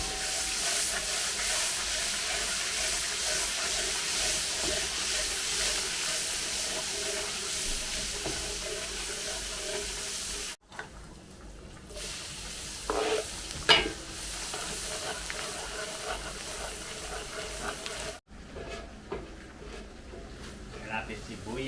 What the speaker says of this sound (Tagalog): Mantika, tapos margarine. Tapos magigisa siya ng sibuyas at bawang.